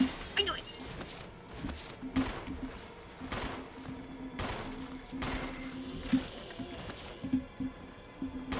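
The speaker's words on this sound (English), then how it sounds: "Just waiting to hear the window break" Window glass shatters loudly in the Resident Evil Remastered game, with several sharp crashing bursts and scattered gunshot-like impacts spread across the scene, and a voice reacting briefly in between.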